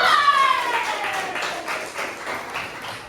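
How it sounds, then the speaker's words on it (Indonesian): An audience claps for Santi, a volunteer called forward during a school guidance-counselling training session; steady, dense applause fills the room throughout, with a brief whistling tone sliding down at the start. "Tepuk tangan buat Santi."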